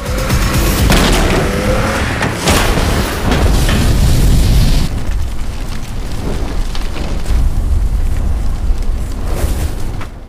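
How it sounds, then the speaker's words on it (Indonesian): In a scene from the film Alice in Borderland Season 2, a car crashes into someone and explodes, producing a loud, continuous roar of booming blasts and rumbling fire with sharp bursts throughout. "tiba-tiba sebuah mobil datang dan menabrak Raja Skop hingga mobil itu meledak."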